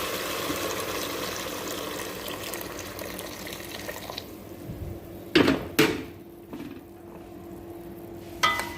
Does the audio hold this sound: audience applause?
no